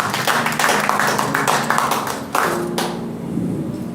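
A church congregation bursts into loud, sustained applause for about three seconds and then fades out, leaving a low murmur of the room.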